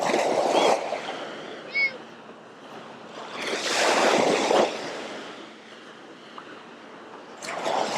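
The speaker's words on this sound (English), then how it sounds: "Kind of nice having the waves like this, though." Hard surf rolls onto Fort De Soto's East Beach after a hurricane, with broad washes of breaking waves swelling and fading over steady wind noise, and a voice speaks briefly.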